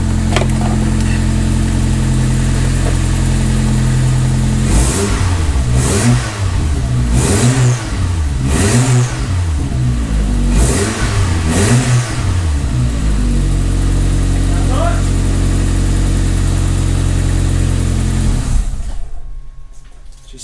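Toyota Starlet Glanza engine with a cheap DIY exhaust fitted with only a centre box, idling steadily then blipped through a run of about six sharp revs before settling back to idle and cutting off.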